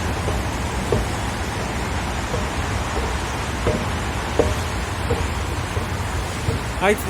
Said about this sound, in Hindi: आई थिंक बारिश तेज़ होगी है फिर